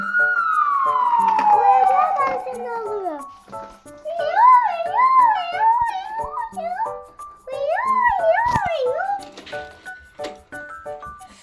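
A toy police siren wails in a sweeping tone, then warbles in repeated up-and-down cycles, fairly close, with a voice chattering nearby.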